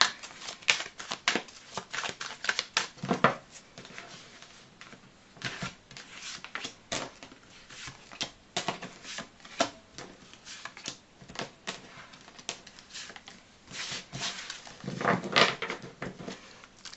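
Playing cards being reshuffled by hand in a quiet room: repeated riffles and soft slaps, close and crisp, coming in irregular bursts throughout.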